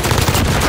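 Gunfire from Call of Duty: Modern Warfare comes as a loud, close burst of rapid shots packed tightly into under a second.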